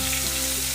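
Chopped onions fry in a pan, a loud, close, steady sizzle lasting under a second with no talk.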